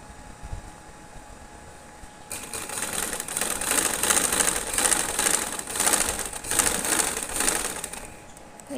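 A sewing machine runs in steady, rapid bursts as it stitches a fold on a trouser, starting after a quiet opening and continuing with short pauses between runs, close and fairly loud.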